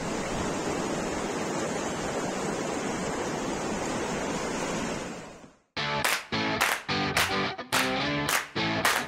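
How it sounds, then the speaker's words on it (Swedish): Rushing water roars steadily and loudly for about five seconds, then stops suddenly and people start talking. "Vatten som rör sig"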